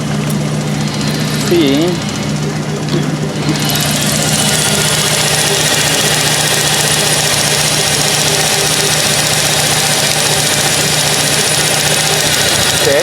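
Steady, slightly rough idle of a 1999 Chevy Sonoma 2.2 engine with injector number 1 unplugged, droning continuously up close while someone speaks briefly.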